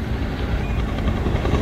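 A rescue helicopter hovers over a bridge during an air lift of a motorcyclist, giving a loud, continuous rotor and engine rumble that stays steady throughout.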